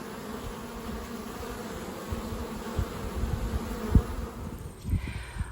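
Honey bees buzz steadily around a hive on a flower farm, a close, continuous low drone with a few louder passes as individual bees fly near; no voices.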